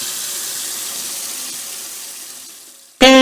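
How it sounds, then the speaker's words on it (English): In a Peppa Pig story, a dentist's water jet cleans a dinosaur's teeth. A faint hiss suddenly breaks into a short, loud gush of running, sloshing water at the very end, with no voices. "He uses the water to clean Mr. Dinosaur's teeth."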